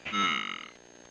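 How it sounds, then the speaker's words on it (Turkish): A single drawn-out burp, loud and close, lasting about a second with a gurgling, croaky tail that fades out; no talk over it. "Geğiriyor mu ne yapıyorsun oğlum?"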